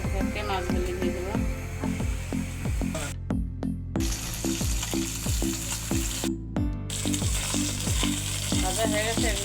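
Pabda fish, coated in salt, turmeric and chilli powder, fry in oil in a pan with a close, steady sizzle, under tonal background sounds, broken by two brief cuts to silence.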